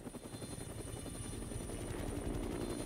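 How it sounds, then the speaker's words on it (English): A helicopter in Dead Rising Deluxe Remaster, its rotor thumping in a rapid steady chop, loud and close, building slightly over a few seconds with no talk. "Suddenly, helicopter."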